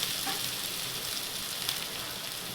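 Masala frying steadily in hot oil on a lowered flame as dry spices go in for egg masala, a continuous soft, even sizzle from start to finish with no voices.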